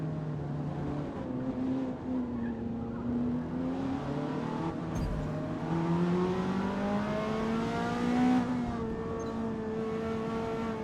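Engine of a 1991 facelifted Ferrari Testarossa in Gran Turismo 7, a steady sustained drone with pitch rising and falling through revs, one brief thump midway, no talk over it.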